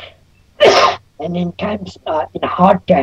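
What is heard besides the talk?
sneeze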